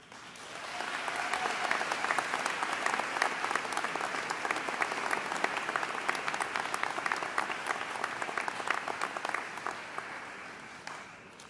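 An audience at a university convocation at UW-Stevens Point breaks into applause that swells quickly, holds as a dense, steady roar of many hands clapping, then fades away near the end.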